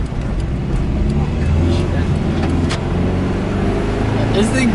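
A Subaru Forester XT, once flood-damaged, drives and accelerates with a steady, loud engine drone and road noise that hold throughout, while voices talk inside the cabin.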